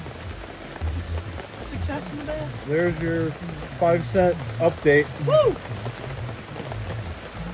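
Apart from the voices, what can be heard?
rain falling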